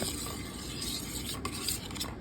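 Pasta being stirred in a pan while cooking a breakfast dish at home, with close, soft scraping and stirring scuffs, a few light utensil clinks and a faint sizzle underneath, no talking.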